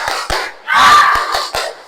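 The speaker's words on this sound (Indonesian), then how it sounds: "Kita akan melakukan dulu ice breaking, tepuk semangat ya." A seventh-grade class performs a tepuk semangat clapping chant in a classroom: a few sharp, near claps, then a loud group shout of voices, then more spaced claps in a steady rhythm.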